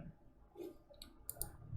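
A computer mouse clicks softly in PowerPoint, a few quick, faint, sharp ticks heard close and alone over quiet room background.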